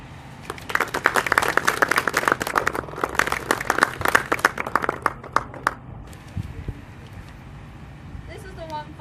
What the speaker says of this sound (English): Please join me in a round of applause for the association and their kind effort.